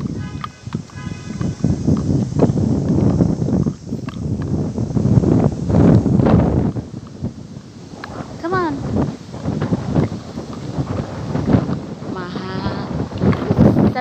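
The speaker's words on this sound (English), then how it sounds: "it's so windy." Blustery wind buffets the microphone in low rumbling gusts at a playground in Hong Kong while people talk nearby, with a few faint squeaky voices in the background.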